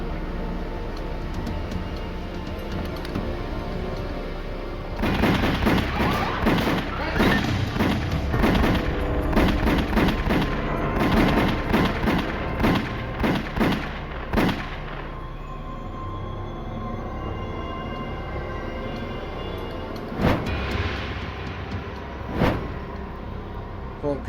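Gunshots in a reenacted mob shooting beside a car, a rapid burst of many sharp, loud cracks followed by a few scattered single shots. A narrator's voice runs beneath.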